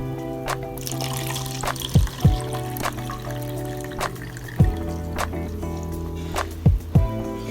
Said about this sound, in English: Just add some water to wash the rice at first so that I can remove the particles in the rice.